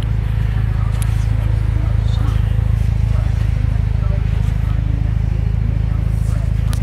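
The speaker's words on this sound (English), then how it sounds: "Hear the exhaust, very quiet," A white 2006 Mitsubishi Lancer Evolution IX MR idles with a quiet, leak-free exhaust, giving a loud, steady low drone that holds unchanged throughout.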